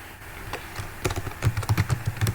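Keys clatter on a computer keyboard in a quick, irregular burst of close clicks that starts sparse and grows denser, with no speech over it.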